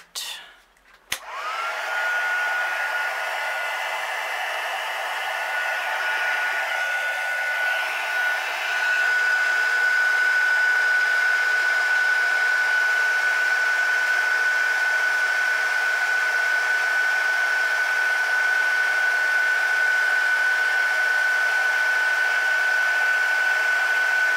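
Electric heat tool blowing hot air to heat-set embossing powder on a flower-themed handmade card: a steady, loud, continuous whirring hiss with a faint high whine, starting after a click and running unbroken for over twenty seconds, with no talk.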